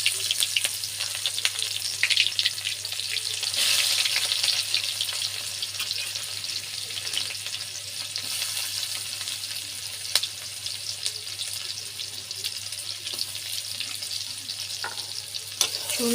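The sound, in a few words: onions frying in oil, for garlic-onion base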